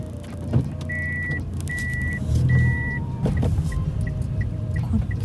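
A Toyota Roomy drives along a road with a steady interior engine and road rumble, while a repeating electronic chime beeps at intervals and then a faster ticking indicator-like tone follows.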